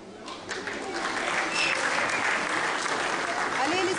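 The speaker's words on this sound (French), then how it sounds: "Allez, les applaudissements, là, un peu plus rapide" Audience applause fills a school end-of-year party, a dense, steady wash of clapping that builds over the first second and then holds loud and continuous throughout.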